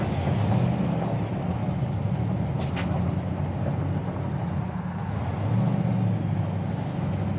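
A 1966 Pontiac GTO with a tri-power carburetor setup idles with a steady, throbbing low rumble that swells slightly at moments, heard alone without talk.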